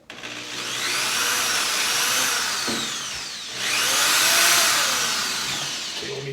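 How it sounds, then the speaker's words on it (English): A power drill boring holes to mount a vent cover whines loudly in two long sustained runs, with a short pause between them and no talking. "So I'm going to drill 2 holes."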